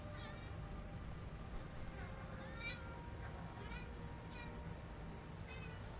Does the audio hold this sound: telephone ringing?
no